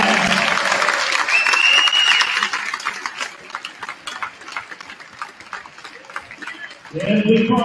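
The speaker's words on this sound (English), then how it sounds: "Nice loud round of applause for those guys." A crowd applauds loudly for former basketball players at a college men's basketball game in a gym, strong at first then thinning to scattered claps before a voice comes over the public address at the end.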